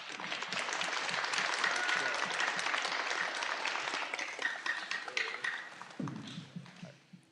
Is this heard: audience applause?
yes